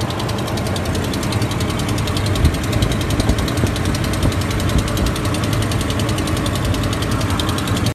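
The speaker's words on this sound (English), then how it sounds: "another Hemi tick that's first noticeable on a cold start" A 5.7L Hemi V8 runs steadily at a cold start with an exhaust leak from broken manifold bolts, giving a continuous fast ticking over the idle, close and even throughout with no talking.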